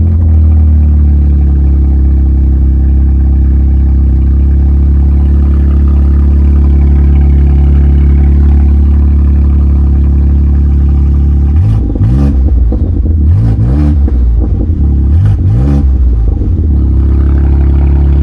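A BMW M3 fitted with catless downpipes and an open dumped exhaust runs loud and steady close by, a deep constant drone that breaks into several sharp throttle blips and revs in the last third.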